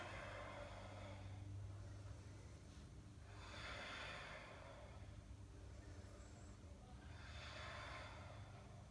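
Slow, deep breathing during a yoga flow, with two or three long airy inhale-exhale swells rising and falling over a steady low hum, quiet and close with no talking.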